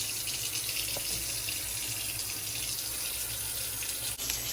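Tap water runs steadily and loudly into a sink or tub to bathe a pet, a continuous close gush with only a brief dip near the end.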